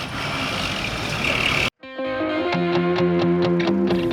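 A cement supply truck loaded with crates of crocodiles rumbles along in the Congo, a loud, steady broadband engine and road roar for under two seconds before cutting to a sustained, tonal, distorted drone.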